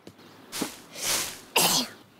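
A cartoon character sneezes in a breathy, drawn-out build-up followed by two sharp bursts, close and clear with no talking around it.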